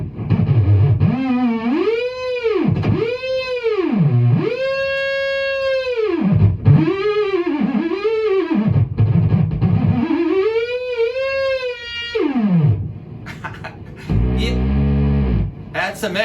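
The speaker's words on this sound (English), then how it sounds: "if you can get it to where it's quiet for a second, then you can do these little tiny theremin jabs." Short, wavering theremin-style guitar jabs from a guitar track, heavily effected and distorted, swooping up and down in pitch as repeated bursts with brief gaps, loud and close, ending in a lower rumbling tail.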